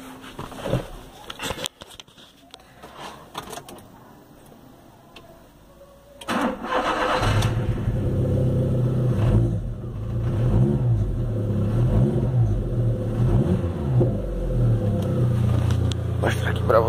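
A Volkswagen Golf with a tuned exhaust is started after a few quiet clicks, then idles loudly and is revved repeatedly, the engine note rising and falling close by.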